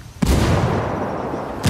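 A grenade blast in the tactical shooter game Ghost War: a sudden loud boom followed by a long rumbling decay, then a second sharp burst at the very end, with no voices.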